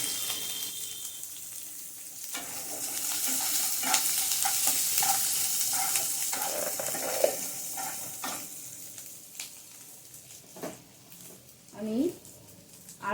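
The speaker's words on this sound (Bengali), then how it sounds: "এবার পেঁয়াজটা সামান্য ভাজবো আমি" Chopped onion and green chilli fry gently in a pan for South Indian lemon rice, giving a steady close sizzle with stirring scrapes and a few sharper crackles, and a faint voice briefly in the background.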